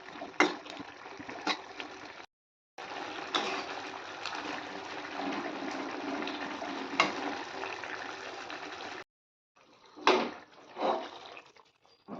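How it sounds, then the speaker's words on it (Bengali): Tilapia fish pieces simmer and sizzle in a spicy Bengali curry, a steady crackling bubbling hiss that cuts out briefly twice, with a few louder spoon scrapes and splashes near the end. "মাছগুলো দিয়ে দিলাম ঝালের মধ্যে"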